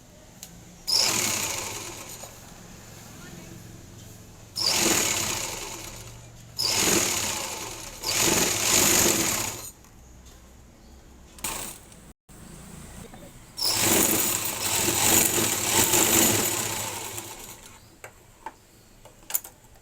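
A sewing machine stitches the front part of a blouse, running in several loud, close bursts of rapid mechanical whirring separated by short quiet pauses.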